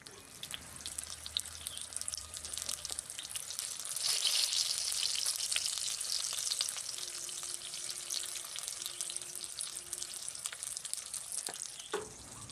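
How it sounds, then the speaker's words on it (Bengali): Broad beans fry in oil in a wok with a steady, soft hiss. The hiss swells louder midway and carries on with faint clinks and a brief knock near the end. "তো সিমটা ভাজা হচ্ছে"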